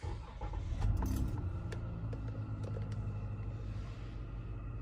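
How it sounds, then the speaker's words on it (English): A car engine cranks and starts during a diagnostic session, a low rumble swelling early and then settling into a steady idle, heard close with small rattles over it. "Let me start the vehicle."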